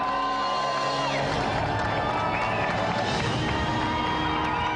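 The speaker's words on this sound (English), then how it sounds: "Another round of applause, Richard and Goldie." A TV game show studio audience cheers, whoops and shouts loudly and continuously, with clapping mixed into the dense, energetic noise throughout.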